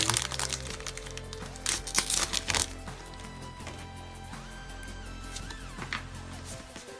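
Foil wrapper of a Pokémon Unbroken Bonds card pack with metallic Lucario art being torn open: a burst of crinkly rips and crackles over about a second, with faint music running underneath.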